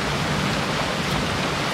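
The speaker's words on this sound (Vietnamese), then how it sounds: "Mưa lớn lắm đùng đùng luôn rồi." Steady, dense hiss of heavy rain pouring down without a break, close and fairly loud throughout.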